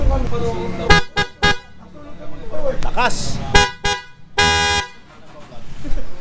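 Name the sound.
motorcycle horn honking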